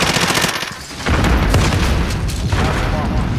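Loud, dense rumbling blasts and crackling bursts of gunfire and explosions in Call of Duty Warzone, continuous and close, with a brief dip before the noise surges again.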